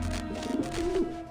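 Video game pigeons in Grim Fandango give two short, soft throaty coos in quick succession, heard quietly over a low humming background.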